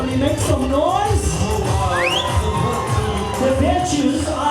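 A wedding crowd cheers and shouts in a continuous loud roar, with whoops and rising yells from the guests carrying on throughout.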